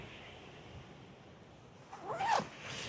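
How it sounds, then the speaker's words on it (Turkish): A zipper on a MECANIK Alpha Ace tactical jacket slides closed in one quick, smooth rasping pull, rising briefly over a quiet room background. "Fermuar çok güzel kayıyor bu arada."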